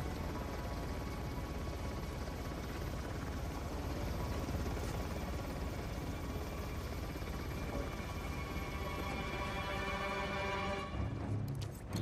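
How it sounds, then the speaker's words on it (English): Helicopter in the video game Uncharted: The Lost Legacy, a loud, steady rotor and engine drone that holds throughout with no talking. "Need to find another way to bring that chopper down."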